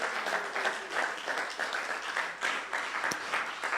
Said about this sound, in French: Acclamez le Seigneur, mes amis.